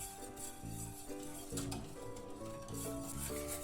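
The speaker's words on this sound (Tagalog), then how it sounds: "Haluin natin ang haluin mga loves. Para hindi siya dumidikit." A spoon stirs vanilla pudding in a pot with steady, soft scraping and rubbing strokes against the metal, fairly faint with a low background hum, no talking.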